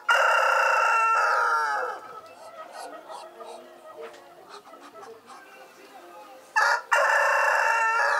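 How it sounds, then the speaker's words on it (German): A rooster crows loudly and close by, one long call at the start and another near the end, with quieter clucking and shuffling in between. "Unser Hahn kann ganz schön nerven."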